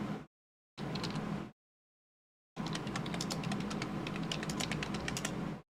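Clattering keystrokes on a computer keyboard, a short burst, a pause, then a longer run of steady typing, close up.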